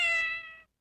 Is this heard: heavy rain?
no